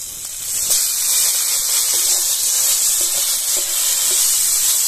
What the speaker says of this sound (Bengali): মশলা থেকে তেল ছেড়ে এসেছে, দেখুন এই অবস্থায় দিয়ে দেবো টমেটো কুচি।